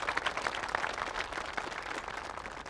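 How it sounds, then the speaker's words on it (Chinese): An audience at a rural paper-making village workshop gives a warm welcome to a visiting deputy town official, a dense steady burst of many hands clapping, fairly close and sustained, with no talk over it. "咱们用最热烈的掌声欢迎领导的到来"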